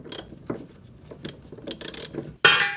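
A ratchet tightens a bump stop bolt on the rear suspension of a 2003-2008 Honda Pilot, giving quick irregular metallic clicks up close and ending with a sharper clank.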